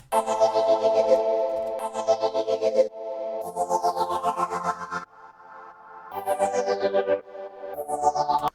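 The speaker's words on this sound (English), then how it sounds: "That's sort of like the idea of what a future bass sound should sound like" A future bass synth patch built in FL Studio plays thick, distorted chord stabs in short repeating phrases, each opening with a bright sweeping pitch bend, loud and upfront with brief gaps between phrases.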